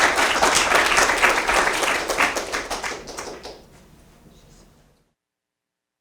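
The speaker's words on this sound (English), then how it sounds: "So let's give everyone a big round of applause." An art-talk audience breaks into dense applause that stays loud for about three seconds, thins into scattered claps and fades to silence.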